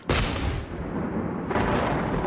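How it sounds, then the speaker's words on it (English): A sudden loud explosion bursts in sharply at the start, then a dense roaring blast sustains for about two seconds without fading. "Suddenly, there was an explosion in his ear."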